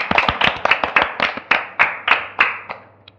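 Schoolchildren in a Thai maths lesson on decimals clap for a classmate, a quick round of sharp, uneven handclaps close by that thins out toward the end, with no talk.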